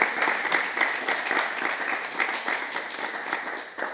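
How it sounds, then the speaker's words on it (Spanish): An audience claps for a guest at a sports-values talk, dense sustained applause at even loudness throughout, close and full with no talking. "Un aplauso para él, por favor."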